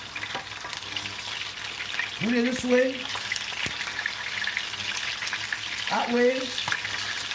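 Organic stew greens sealing in a hot pan give a steady sizzle and fry, with stirring scrapes and someone talking over the cooking.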